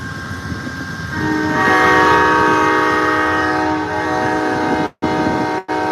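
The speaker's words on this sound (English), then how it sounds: "There's the end of the train, the coal train going by." A coal train rumbles past nearby at the Ottumwa, Iowa station while a loud, sustained horn blares over it, then briefly cuts out before the rolling noise continues.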